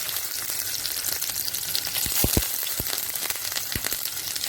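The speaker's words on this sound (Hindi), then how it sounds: "अब मैं एक एक करके पनीर इसके अंदर डालूंगी और उसको चारों तरफ से अच्छे से फ्राई करेंगे।" Paneer pieces shallow frying in oil, a continuous bright sizzle at close range with a few soft low thumps as pieces are moved around.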